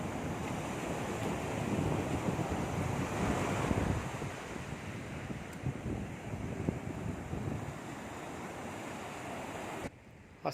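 Sea waves wash onto a beach beside the mangrove forest of Habalikhathi in Bhitarkanika, a soft, steady surf with wind buffeting the microphone and no talking.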